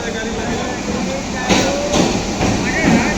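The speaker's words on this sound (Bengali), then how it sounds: "এটা লোকাল ট্রেন এখানকার।" Local train at a station platform in the evening, a loud rumbling with metallic clatter and squeals as carriages move, while people talk nearby.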